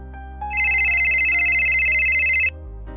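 A telephone ringtone for an incoming call trills loudly and steadily for about two seconds, then cuts off, with a faint room hum underneath.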